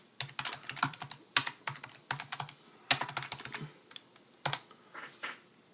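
Typing on a computer keyboard to write notes: close, crisp key clicks in uneven bursts separated by brief pauses, with a few louder keystrokes standing out.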